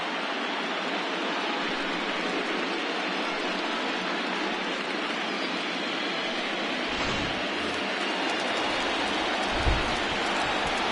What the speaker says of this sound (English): Well, you don't need us to tell you, it's really starting to come down out there.